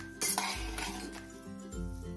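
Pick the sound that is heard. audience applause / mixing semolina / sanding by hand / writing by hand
mixing semolina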